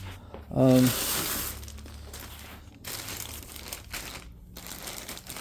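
A bag of Husky plastic sheeting crinkles loudly in one short burst while being handled, then softer rustling carries on beneath a voice.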